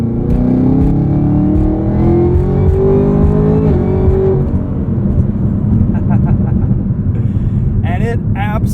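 A 2022 Chevrolet Camaro ZL1 1LE with a 10-speed automatic accelerates hard on an open road, its engine note rising steadily in pitch before an upshift drops it to a throaty roar, loud and close, with brief clicks near the end.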